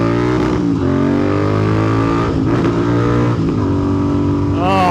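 A Royal Enfield Interceptor 650 motorcycle accelerates hard in a roll-on run from 50 to 100, its engine note loud and close and climbing through the revs, with a brief gear change near the end.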